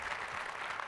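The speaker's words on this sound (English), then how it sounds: "Give him a round of applause." An audience applauds at an education conference, a dense, steady wash of many hands clapping that fills the whole short stretch.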